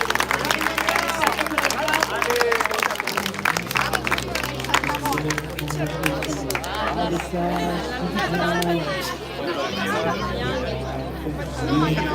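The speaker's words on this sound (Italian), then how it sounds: "Un applauso per questi pugili" Crowd at an Olympic-style amateur boxing event in Noventa di Piave applauds the boxers after the final round, a steady wash of clapping and cheering mixed with loud chatter and an announcer's voice over the hall.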